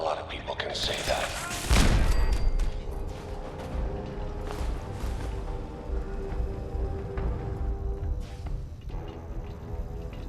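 Bursts of gunfire crackle in Fallout 4 at Fort Hagen, with a heavy thumping volley early on followed by scattered shots and mechanical clatter, while a voice talks over parts of the fighting.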